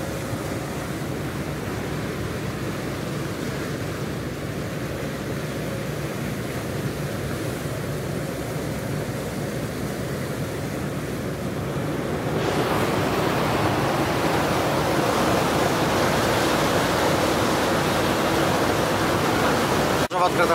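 A boat crossing open ocean between islands on the way to Delft Island off Jaffna, Sri Lanka: steady loud broadband wash of engine, wind and water spray throughout, growing rougher and louder about midway.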